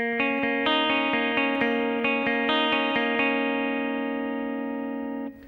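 Electric guitar run through effects plays the first measure of the bridge of a song, a steady series of bright picked notes ringing over a sustained tone, close and loud, no talking.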